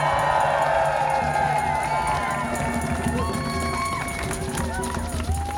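At a university union strike rally in Leeds, a crowd cheers and applauds loudly and continuously, with scattered shouts and whoops in the mix.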